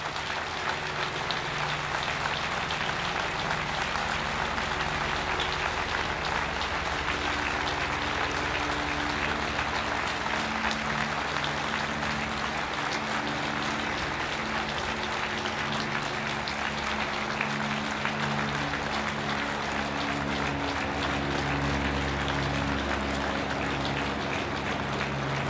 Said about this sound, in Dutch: We gaan ze nog een keer een hartverwarmend applaus geven, mensen.